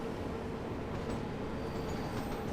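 A London Underground Bakerloo Line train coasting in the Train Sim World 2 simulator, with a continuous rumbling drone of wheels and carriage and a faint whine, steady and close throughout.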